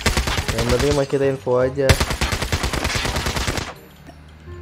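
Rapid automatic gunfire from Call of Duty Mobile crackles in quick bursts, heard partly under someone talking casually, then tails off into quieter game ambience.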